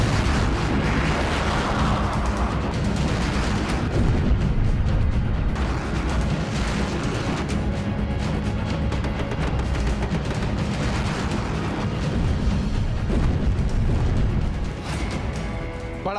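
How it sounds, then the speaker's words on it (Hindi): A prolonged, loud roar of explosions and crackling bursts as a plane crashes into a building and sets it on fire, continuous and heavy throughout, easing slightly near the end. "बड़ा सा धमाका और इमारत में आग लग गई।"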